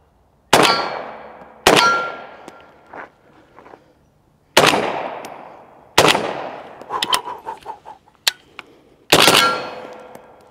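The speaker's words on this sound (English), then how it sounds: "Just to show you how light that recoil is with subs." A Riley Defense Krink rifle fires subsonic ammunition outdoors, five sharp loud shots spaced by pauses, each ringing out with a decaying echo, with small clinks and rattles between them.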